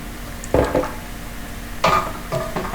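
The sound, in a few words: sautéing jackfruit with turmeric and chili powder in pan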